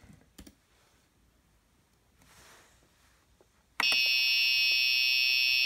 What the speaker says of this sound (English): Now I'm going to increase the alarm level to level 1, and I'm going to say the voltage is low.